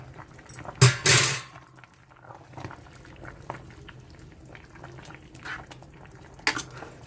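Tamarind stew with eggplant, okra, drumstick and pumpkin simmering in a pot, with quiet steady bubbling and a couple of louder clattering knocks from the pot early on, no voices.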